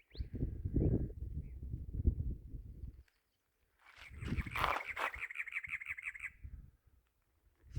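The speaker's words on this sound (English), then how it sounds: "Lots of birds." Many birds call outdoors on rural property, with a burst of squawking and chattering in the middle, while wind or handling rumble fills the first few seconds.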